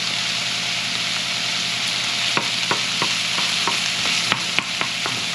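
Breakfast casserole ingredients frying in a pan, a steady loud sizzle with a run of regular scraping taps as a utensil stirs and pushes the food around.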